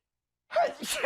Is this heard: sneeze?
yes